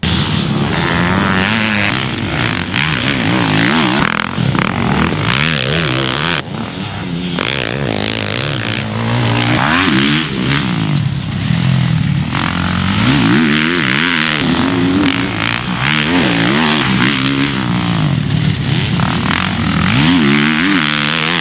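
A 2022 Kawasaki KX450SR dirt bike engine revs hard and continuously, its pitch climbing and dropping through gear changes as it loops around a track, loud and close.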